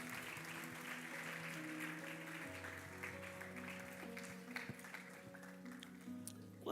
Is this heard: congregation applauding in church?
yes